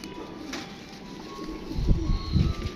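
Pigeons coo softly in a low, throaty murmur, a few rounded hoots swelling near the end over a steady hum of background noise.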